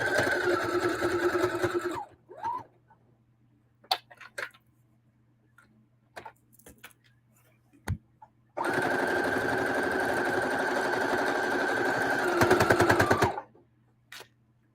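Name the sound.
sewing machine stitching a casserole pad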